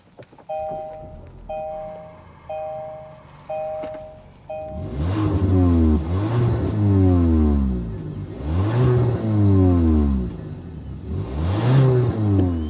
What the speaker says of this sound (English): let's go inside, start it up, and hear that turbocharged exhaust note